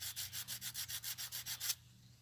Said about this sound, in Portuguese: você pega a lixa aqui ou a lima. E vai. Vai afiando.